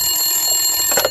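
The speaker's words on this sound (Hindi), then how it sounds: "टेलीफोन की घंटी बजना शुरू हुई।" A telephone bell rings in a short burst, a bright metallic trill holding steady before a louder clang near the end.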